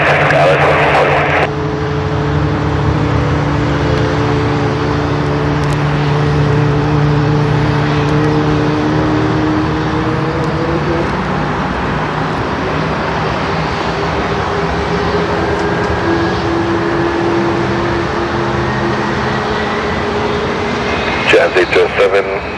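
A plane takes off from runway 34 right at Seattle-Tacoma International Airport, a loud continuous engine roar with droning tones that shift pitch as it powers up, while tower radio talk runs over it.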